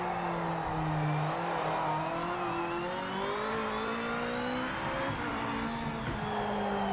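An LMH race car engine in the Project Motor Racing video game: a steady, sustained whine whose pitch climbs smoothly and then shifts as the car works through its gears, loud and continuous.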